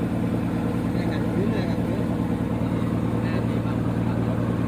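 A steady engine drone from a small motorboat runs throughout, close and constant, with faint voices under it, by a rock breakwater on the Gulf of Thailand.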